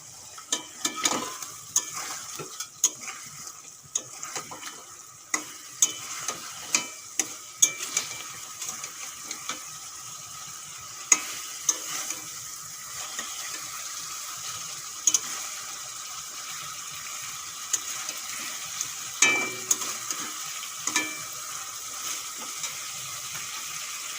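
Hilsa fish sizzles and fries in mustard paste masala in a pan, with a steady hiss and repeated sharp clinks and stirring scrapes throughout.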